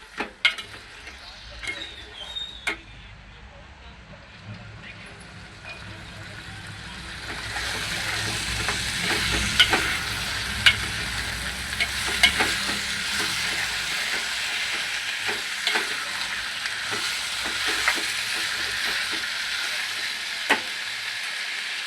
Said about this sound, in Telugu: దొండకాయలు వేసి మంచిగా కలుపుకోవాలి.